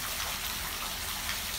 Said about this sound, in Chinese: 还有小瀑布